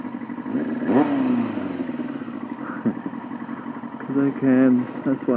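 A Yamaha R6 sport motorcycle engine runs at around 3,000 RPM, a nearby mid-pitched drone with brief throttle blips, heard under a rider's talking.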